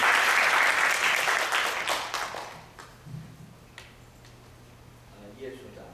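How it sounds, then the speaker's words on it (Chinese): A crowd at a public forum on air quality and the environment claps to welcome the next presenter. It is a full, close burst of clapping that tapers off after roughly two seconds, leaving scattered claps and faint room noise. "我们掌声欢迎"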